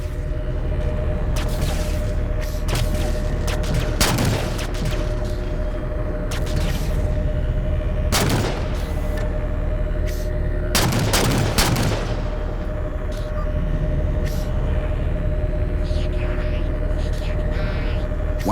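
Gunfire in the video game Halo 4, sharp repeated bursts and booming shots breaking out every few seconds over a constant low roar of engines and battle ambience, loud and close.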